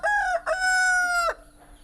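A rooster crows loud and close in a Kerala yard, a short opening note then a long sustained call, followed by quiet.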